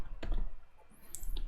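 Sharp, dry mouse clicks on a computer, a few quick taps spaced through a short quiet stretch with faint room noise behind them.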